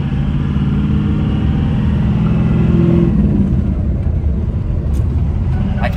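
Steady rumble of a manual-transmission truck engine heard from the passenger seat inside the cab, a continuous low drone that rises slightly in pitch midway as the vehicle moves along.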